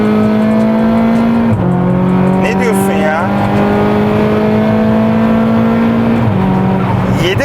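A tuned Volkswagen Polo GTI 1.4 TSI engine roars loudly from inside the car, revving and climbing in pitch through gear changes as it accelerates hard, with voices talking over the drone.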